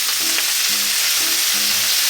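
Enoki and scallion pork cheese rolls fry over high heat in a frying pan, a loud, dense, continuous sizzle with faint low tones from the pan, no voices.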